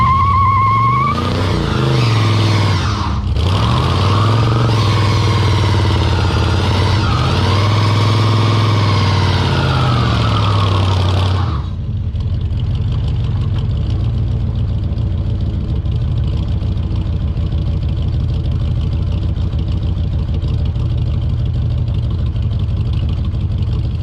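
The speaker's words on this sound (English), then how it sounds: "she is running pretty good, making some really good torque" A Chevrolet Chevelle V8 revs with rising and falling pitch for roughly the first eleven seconds, then drops into a steady, loud idle that runs alone to the end, the tone rough from a carburetor miss.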